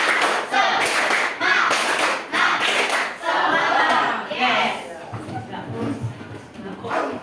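A school class of children stands and claps out a rhythmic cheer in unison, sharp grouped bursts of hand claps with short pauses between, mixed with chanting voices and fading into quieter talk near the end.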